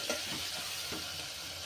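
Biryani masala and turmeric get stirred into a frying pan for chicken fry biryani, a soft, quiet sizzle with light scraping strokes, brief and close, no voices.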